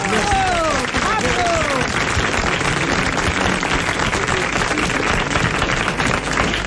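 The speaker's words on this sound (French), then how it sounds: "je voudrais que vous applaudissiez tout de suite le nouveau père, Jacques Martin" A studio audience on a 1987 French TV talk show applauds the new father, Jacques Martin, with dense, steady, sustained applause filling the room, and a voice rising briefly over it near the start.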